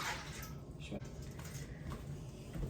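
Two cups of water pour into a foil-lined pan of peeled, sliced potatoes, a faint, steady splashing stream with no talk over it.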